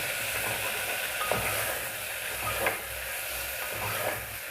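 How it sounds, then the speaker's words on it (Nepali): Mustard paste fries in a pan for a taro curry with a steady, even sizzle and hiss and a few faint stirring scrapes, with no talking. "यसलाई पनि एकछिन भुट्नु होला।"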